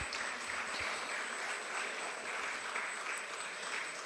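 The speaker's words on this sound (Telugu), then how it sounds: "మీరంతా క్లాప్స్ కొడతారేమో అనుకున్నాను." Audience applause at a devotional music festival, a steady dense clatter of many hands clapping continuously throughout, moderately loud and without talk.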